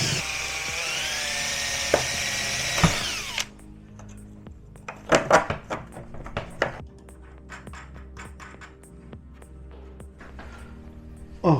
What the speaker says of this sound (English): I'm going to drill through.